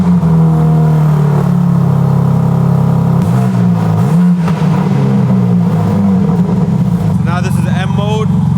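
Warm BMW G80 M3 CS with its stock exhaust, revved several times at idle, loud and close, the engine note rising and falling in repeated blips before settling back to a steady idle.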